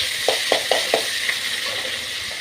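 Onion and green chillies go into hot oil with chana dal and urad dal for a millet upma, frying with a steady broad sizzle and several short clicks of stirring in the pan.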